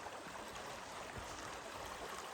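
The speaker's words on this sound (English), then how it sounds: "Nice little serene section of the creek." Barlow Creek flows through backcountry forest. A steady, soft, broadband rush of running water continues with no pauses and no voices.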